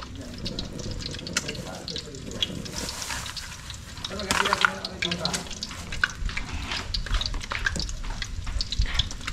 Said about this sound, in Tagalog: Patapos na po ako sa pag-prito ng itlog.